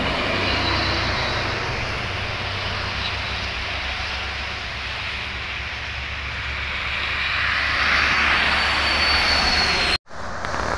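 A Rosalia Indah Jetbus 3+ double-decker bus roars past on a highway at kilometre 196 Palikanci, its broad engine and tyre rumble swelling then cut off abruptly.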